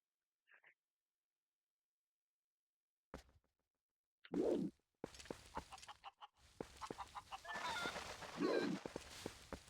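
A chicken in the Zelda Twilight Princess video game clucks and squawks in short bursts, with game whooshes and rustling effects in between after a near-silent start.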